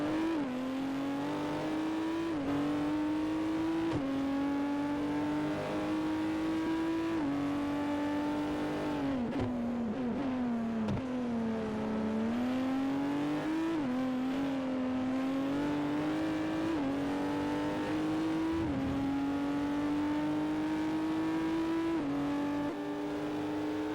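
A Honda race car in Forza Motorsport 4 drives a lap, its engine note loud and steady as it climbs through the revs, drops at each gear change and rises again, with short dips where the car slows for corners.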